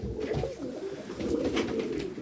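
Breeding pigeons cooing steadily in a loft, a soft continuous layered cooing from several birds nearby with faint background noise and no voices.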